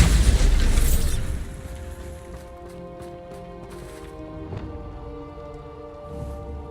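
A Bombarda blasting spell goes off in Hogwarts Legacy with a loud, broad boom in the first second, then a lingering rumble and scattered crackling debris that fades over several seconds.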